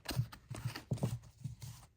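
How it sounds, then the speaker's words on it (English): A deck of tarot cards is shuffled close up in a quiet room, a series of soft riffling bursts and taps in an uneven rhythm. "Let's give that another shuffle."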